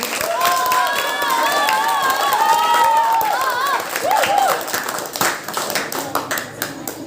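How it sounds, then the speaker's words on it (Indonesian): An audience at a children's preaching competition claps and cheers, with children's shouting voices rising over the clapping at first, then the applause thins into scattered, uneven claps toward the end. "Oke, mana tepuk tangannya dong?"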